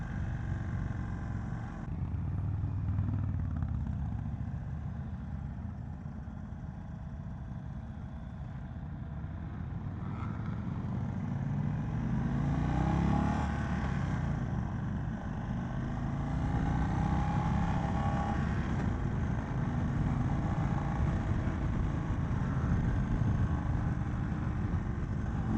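A 2022 Indian Chief motorcycle accelerating on the road, its engine a steady, loud drone with a rising surge partway through and continuous wind rush throughout, with no talking.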